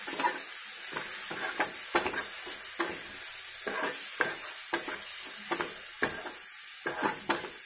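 Spices scrape and rattle in a frying pan for chana chaat, a spatula clacking in an irregular rhythm of repeated strokes over a soft background sizzle; nobody talks.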